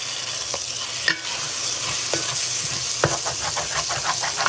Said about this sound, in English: As you see, I'm scraping the bottom of the pan,